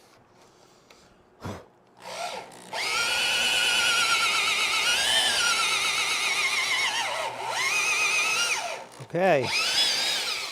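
A power drill whines steadily into a hardwood bench for several seconds, its pitch sagging under load, with a brief spoken word at the start.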